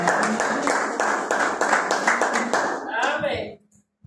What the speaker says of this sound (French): applaudissons fortement